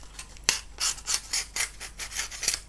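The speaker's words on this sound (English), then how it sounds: "I'm going to take my utility knife now and I'm going to carve it." A utility knife carves and rounds the edges of a foam terrain piece for modular tabletop scenery, giving a series of short rasping strokes at a steady rhythm, close and fairly quiet, with no talking.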